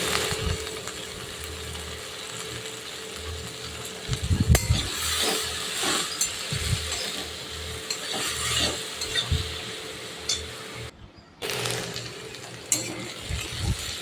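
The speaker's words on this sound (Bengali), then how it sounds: "ভেন্ডিটা আমার প্রায় ভাজা হয়ে গেছে আর একটু ভেজে আমি তুলে তুলে নেবো" Steady sizzling of okra frying in a pan with salt, green chillies and turmeric, with scraping stirring strokes and clinks of a utensil, no voices.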